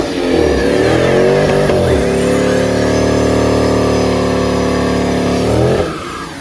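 A 2013 Dodge Charger R/T AWD doing a tire burnout, its engine held at a loud, steady high rev for several seconds before dropping off near the end, with no one talking.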